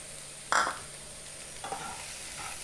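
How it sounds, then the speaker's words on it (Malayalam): A spoon stirs grated coconut through an ivy gourd stir-fry in a pan, giving a sharp scrape followed by a couple of fainter scrapes over a quiet, steady background. "നമുക്കിതിലേക്കൊരു 1/2 കപ്പ് തേങ്ങ ഇട്ടിട്ട് നല്ല മിക്സ് ചെയ്യുക."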